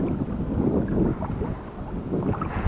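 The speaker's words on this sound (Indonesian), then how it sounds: "Angin dah makin kuat petang." Strong afternoon wind gusts over a kayak out fishing on the water, a steady, heavy roar buffeting the microphone throughout with no voices.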